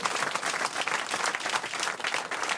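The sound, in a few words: studio audience applauding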